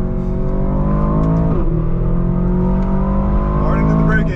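An Aston Martin DBX 707 engine revs hard and loud from inside the cabin, its pitch climbing, dropping sharply at a gear change, then climbing again, with a voice talking over it.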